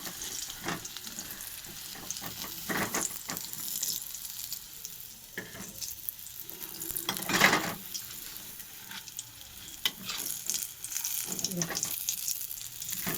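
Food sizzles steadily while frying in a pan, a continuous close crackle with occasional louder spits and scrapes, no one speaking.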